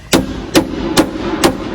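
A hammer strikes rivets into Rock Slide Engineering power steps on a Jeep Gladiator, four sharp metallic hits evenly spaced about half a second apart, close and loud over a low background hum.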